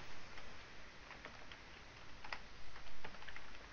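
Light irregular keyboard typing clicks on a computer while writing a C++ for loop, faint and scattered over a quiet hiss.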